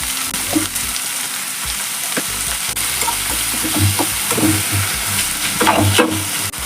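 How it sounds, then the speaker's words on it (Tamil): Chopped tomatoes with salt sautéing in a pan for okra kuzhambu, a steady close sizzle with scattered stirring scrapes and clinks throughout, no voices. "உப்புத்தூள் போட்டுக்கோங்க. தக்காளி சீக்கிரம் வதங்கணும்."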